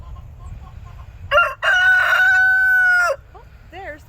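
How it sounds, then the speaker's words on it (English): A rooster at a family farm lets out one loud, close cock-a-doodle-doo crow, followed by softer clucks, over a low rumble of background noise. "Oh, there's the rooster. It says cock-a-doodle-doo."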